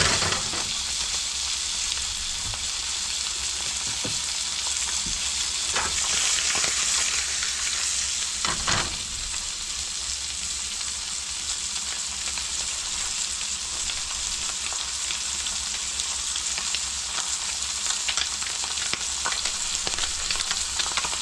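Catfish pieces frying in a pan, a steady bright sizzle and crackle with occasional stirring or flipping clinks, continuous and close, with no talking.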